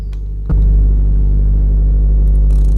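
A car engine in the game My Garage cranks with a short click, then settles into a loud, steady low rumble that fills the rest of the moment, close and unbroken, with no talk over it.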